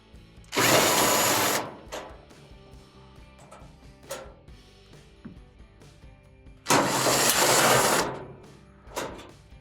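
Power drill backing out the two 5/16 panel screws at the top of an Amana dryer: two loud, sustained whirring bursts about a second long, separated by quieter clicks and handling taps.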